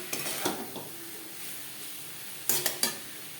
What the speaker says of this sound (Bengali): মাছের সাথে কচুর লতি বেশ ভালো করে মিক্স করে দেবো